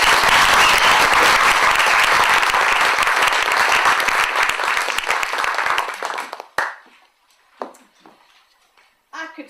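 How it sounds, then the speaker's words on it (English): An audience applauds for a storyteller at a tall tales evening, loud dense clapping that carries for about six seconds, then stops abruptly, leaving a few faint clicks and small stray noises. "Right, a wee round of applause for Rona."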